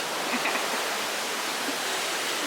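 The Mençuna waterfall in Georgia roars as a steady, even wash of falling water, constant and fairly loud, with no talking.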